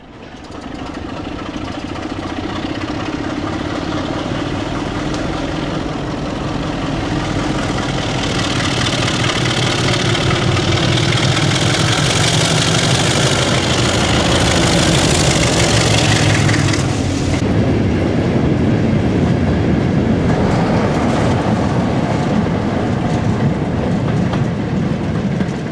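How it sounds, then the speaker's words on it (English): A Class 33 diesel locomotive, 33035, leads a passenger train toward Redmire, its engine drone growing louder and closer with steady rumbling wheels and rail clatter, then easing slightly as it passes. "we then see the train heading towards Redmire, this time with 33035 leading"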